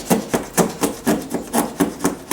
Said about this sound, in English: So grab the putty knife and just start scraping and see what will scrape off of here.